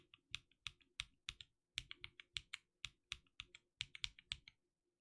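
Stock Cream mechanical keyboard switches, lubed, clack in quick, even bursts of close, crisp keystrokes with brief pauses between runs, set against a quiet room.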